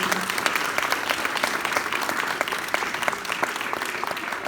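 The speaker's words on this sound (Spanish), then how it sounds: "Denle un fuerte aplauso al Señor." A church congregation applauds during a Spanish-language sermon, sustaining loud, dense clapping from start to finish with only a faint voice under it at the very beginning.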